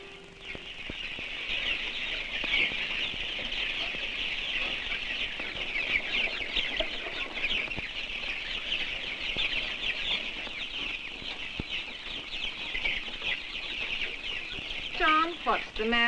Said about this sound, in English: Looks like he's practically gonna live with those chickens, the way he sticks out there all the time.